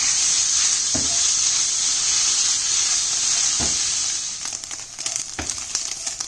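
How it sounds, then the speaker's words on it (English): Chicken pieces frying in oil with soy sauce in a wok over high heat give a steady bright sizzle, with a few soft utensil knocks and the hiss easing slightly toward the end. "fry this until on high heat until it becomes golden"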